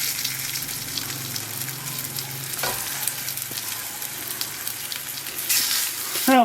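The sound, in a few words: Lithuanian meat pies frying in hot oil in a pan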